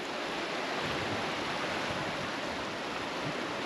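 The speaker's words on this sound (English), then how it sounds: "Scalding hot water coming down." Scalding hot spring water pours down beside a river in Idaho, a steady, broad rushing wash with no breaks and no voices.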